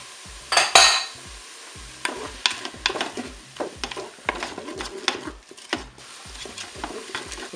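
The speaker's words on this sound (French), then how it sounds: "Maintenant je vais ajouter les crevettes." Shrimp tipped into a Cookeo electric pot for Cantonese rice, then stirred with a utensil: a soft splashy drop, a light sizzle and repeated scraping and clacking against the pot, with no talk.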